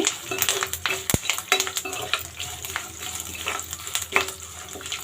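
Curry leaves, green chillies, dried chillies and ginger get stirred in a frying pan, with a soft sizzle under repeated scraping and clinking of a spoon against the metal pan, near and fairly loud, and no one talking.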